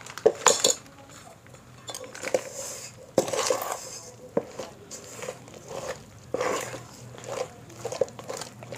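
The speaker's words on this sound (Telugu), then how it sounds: "సో బాగా బీట్ చేసుకోవాలి." Cake batter made with biscuits is beaten in a bowl, a run of irregular clattering strokes and utensil knocks against the dish, loud and close, with short pauses between bursts.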